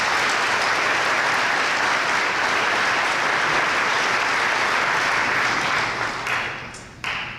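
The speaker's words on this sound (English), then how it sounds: "Give them a round of applause." Sustained audience applause at a high school senior awards ceremony, dense and steady clapping from a large crowd that fades out near the end.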